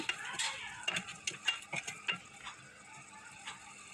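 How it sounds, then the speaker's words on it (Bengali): Spice masala of chilli powder, green chillies and salt frying in a pan, with a spoon scraping and clinking through it in quick, irregular strokes over a soft sizzle. "দিয়ে এখন মশলাটাকে ভালোভাবে কষিয়ে নেব।"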